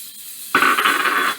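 More onions go into a pan of caramelized onions for chicken marsala, setting off a sudden hiss that lasts under a second before cutting off.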